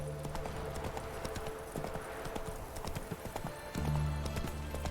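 A horse galloping in the video game Witcher 3: a steady, rapid clip-clop of hooves with a low rumbling undertone that swells briefly near the end, with no talking.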